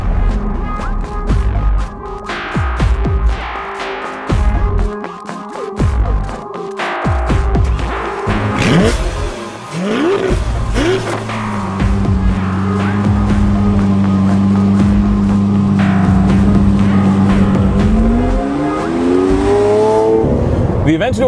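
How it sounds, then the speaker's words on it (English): A 700 horsepower Lamborghini Aventador Roadster on an airport runway, its engine revving loudly and rising through gears, with a sustained high-revving pull building toward the end and speech-like sounds mixed in early on. "700 horsepower Lamborghini Aventador Roadster and exclusive access to an entire airport runway"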